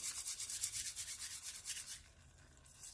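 Fresh homegrown garden basil leaves are rubbed between the palms, giving a quick run of close, soft rhythmic scratchy rustles that fade out partway through.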